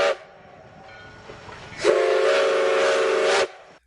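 A steam train whistle sounds alone in two blasts, a short one first and then a long, loud sustained one that cuts off sharply, over a low background rumble.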